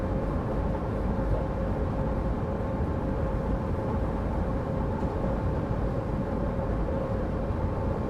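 An S-Bahn electric train in the Train Sim World 4 game rushes past with a steady, loud rumbling roar that holds constant throughout, with no talking.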